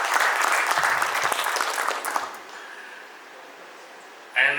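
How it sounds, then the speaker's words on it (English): An audience at an international oil industry conference in Dubai claps loudly for about two seconds, then the clapping thins and fades into quiet room tone. "A big round of applause for that."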